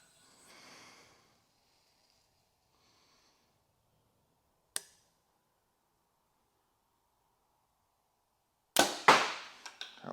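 An arrow released from a Title 40 recurve bow during an archery round, a single crisp snap heard near and clearly, followed seconds later by louder clustered thuds and rattles, with a soft breathy noise at the start.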